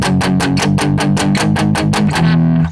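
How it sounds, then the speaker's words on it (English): A heavily distorted Les Paul electric guitar with humbucker pickups plays a fast, evenly chugged run of muted notes, then lets a final chord ring out before cutting off. "So here's a classic fat humbucker Les Paul."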